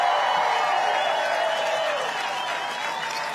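A large crowd claps steadily at a rally on the Iowa fairgrounds, the applause dense and sustained at a moderate level throughout, with a faint murmur of voices underneath.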